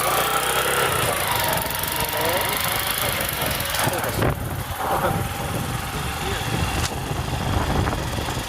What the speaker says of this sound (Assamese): নতুন বাইক চাগে